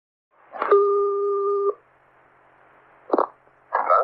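A telephone handset plays a steady dial tone, then short dialing tones as a number is keyed in before a call, loud and close with brief pauses between presses.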